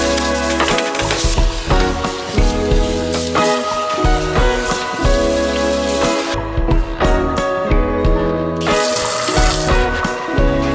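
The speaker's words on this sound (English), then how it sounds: "I'm just gonna give this a good scrub, let it sit for a second, and then rinse it out." Tap water runs continuously into a kitchen or bathroom sink being rinsed after a scrub with baking soda and vinegar, with splashing, rattling and knocking sounds throughout, close and fairly loud.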